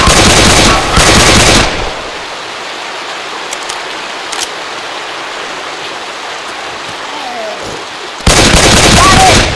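Loud weapon fire in Return to Castle Wolfenstein on the beach multiplayer map, dense bursts at the start and end with a steady hiss of ambient game noise between them.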